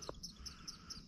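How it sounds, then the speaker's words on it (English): Small bird chirping in an outdoor summer setting near a pond, a short series of faint, high, evenly spaced tweets with a soft low call near the start and no talking. "Hello, bird."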